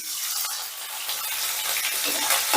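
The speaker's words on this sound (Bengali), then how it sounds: "এবার আদাটাকেও একটু নাড়াচাড়া করে নেব" Grated ginger stirred in hot oil with tempering spices over low gas flame, a close, bright sizzle with soft scraping strokes throughout a short stretch.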